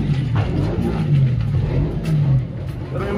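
A motorcycle is revved hard during a rolling wheelie at a college auto expo. Its engine drones loud and close without a break, rising and falling slightly.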